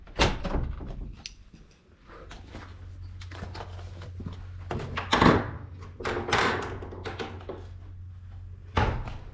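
The old door to the kitchen bar in an abandoned Arizona ghost town opens with creaks, knocks and a thunk, close by, amid scattered handling noise.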